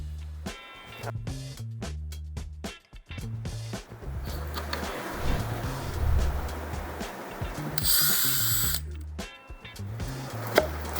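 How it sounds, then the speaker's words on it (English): A drill bores pilot holes into wood for screws in a small carpentry shop, a few short whirring bursts with a brief high-pitched spin-up, quiet and close. "We're going to put some pilot holes in here, so when we put the screws in, we do our best not to crack the wood"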